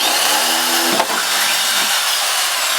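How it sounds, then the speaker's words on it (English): Power drill boring a hole in a metal fabrication kit piece, a loud, steady whining grind that holds for the whole stretch, with a brief clunk near the middle. "Next, go ahead and drill your hole."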